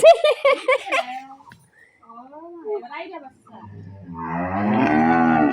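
Cows on a small home farm, with a long low moo swelling in the latter part of the clip after close talk from a woman and a child.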